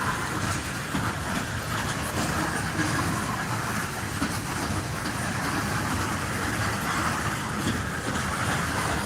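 A train rolls across the Stadium Drive grade crossing in Mount Hope, West Virginia, a steady loud rumble of rail cars with faint clickety-clack, continuous and unbroken with no voices.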